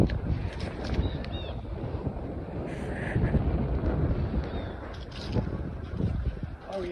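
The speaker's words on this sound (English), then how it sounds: "the wind's blowing, so it's cooking fast" Gusty wind blows outdoors around a charcoal fire in a trash can used to cook a turkey, buffeting the microphone in uneven surges that rise and fall over several seconds.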